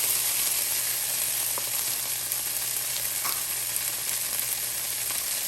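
Carrots go into a hot pan with garlic for a vegan lentil loaf, setting off a steady, dense sizzle of frying that runs evenly throughout with faint stirring clicks and no talking.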